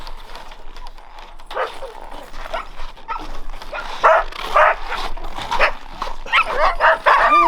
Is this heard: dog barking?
yes